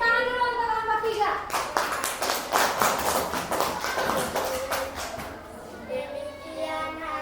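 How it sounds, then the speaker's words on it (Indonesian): A room full of people clapping together in a classroom, a steady burst of applause with some children's voices mixed in, tapering off toward the end. "Tepuk tangan dulu untuk kelompok 3."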